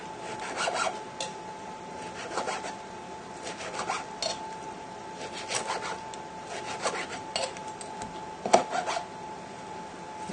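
A knife draws through cooked pork, cutting thin slices with soft, rasping strokes repeated at irregular intervals over a steady background hum.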